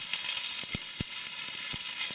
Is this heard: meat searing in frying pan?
yes